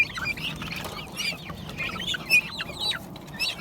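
Soft clucking and chirpy calls from chicks and young turkeys in a shared run, including Striped Amrox chicks, scattered and fairly quiet over a low steady background hum.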